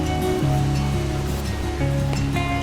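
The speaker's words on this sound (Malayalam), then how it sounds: "ചെറിയൊരു അരുവി, പക്ഷെ നല്ല ഒഴുക്കുണ്ട്" A small but fast-flowing forest stream fed by a waterfall, a steady loud rushing of water that fills the whole scene without pause, with low tonal hum layered beneath the flow.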